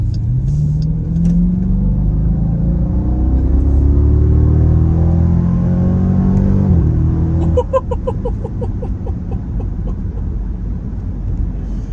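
A Jeep Grand Cherokee SRT Night Edition engine accelerating hard from inside the cabin, its loud drone climbing steadily in pitch for several seconds before a gear change drops it and the pull continues.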